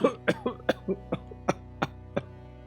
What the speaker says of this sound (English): coming from the corner of the room, the sound of a young boy coughing.